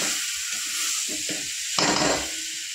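Spices frying with potatoes in a pan for a rohu fish curry, a steady close sizzle broken by several scraping strokes of a spatula, one stronger stir near the end.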